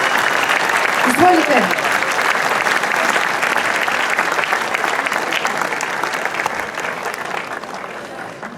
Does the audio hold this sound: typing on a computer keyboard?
no